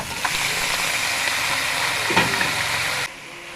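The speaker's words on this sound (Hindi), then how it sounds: "लहसुन गोल्डन ब्राउन हो गया है और अब हम इसमें डाल देंगे चिकन।" Chicken sizzles in a pan of golden-brown garlic for an Afghani kadhai, a loud steady frying hiss with a brief stirring scrape midway, cutting off abruptly near the end.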